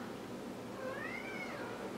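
A pet cat gives a drawn-out, rising and falling meow near the microphone, a single call over a steady low room hum with no talking.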